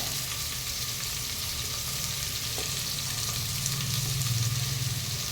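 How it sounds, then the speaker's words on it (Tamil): Onions and green chilies fry in oil in a pan for a homemade biryani, a continuous close sizzle with faint stirring scrapes and no voices. "வெங்காயம், பச்சை மிளகா போட்டாச்சு. அது நல்லா எண்ணெயில் ஃப்ரை ஆகணும்."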